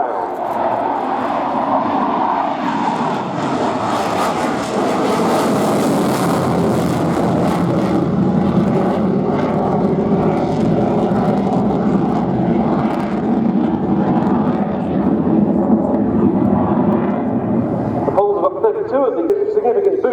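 A Polish Air Force Mikoyan MiG-29A jet makes a low go-around at an air show, its engine roar loud, continuous and sweeping for the whole stretch, with a commentator talking over it.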